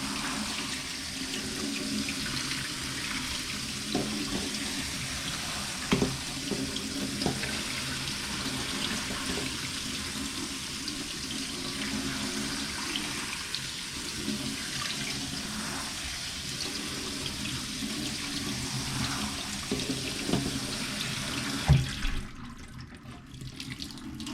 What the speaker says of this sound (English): And with cold water,